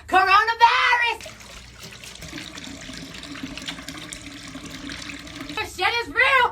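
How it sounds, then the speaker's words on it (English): Running tap water in a home kitchen pours steadily for several seconds as hands are washed under it, a fairly even hiss bracketed by a person talking at the start and end. "First things first, wash those hands."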